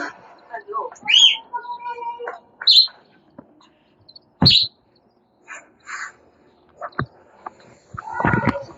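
Baby chicks chirping: scattered high, sharp peeps and tweets in short bursts with quiet gaps between, close by, with a voice speaking briefly among them.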